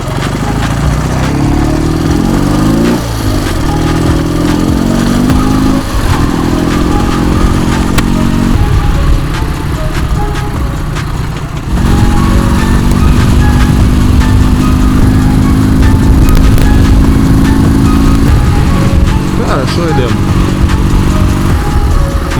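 A loud Dnepr MT10-36 motorcycle engine, with a damaged clutch, runs steadily close by, its pitch rising and falling as it revs, with voices talking underneath.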